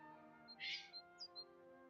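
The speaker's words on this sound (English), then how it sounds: "There's like 2 bird noises going on at once" Two overlapping bird squawks from a creature in the video game Heartopia, a harsh screech followed by several short higher chirps, faint over a steady tonal game music bed.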